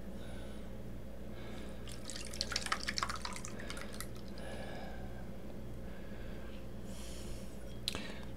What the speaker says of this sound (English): What we're going to do now is we're going to pour off the casein, and you will see.